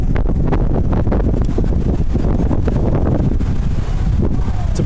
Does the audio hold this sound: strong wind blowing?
yes